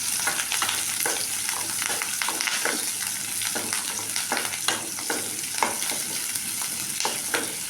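Shallots and garlic sizzle in hot groundnut oil with tempered lentils, mustard seeds and fenugreek for a dried-fish curry, a steady close frying hiss broken by repeated stirring scrapes and clicks.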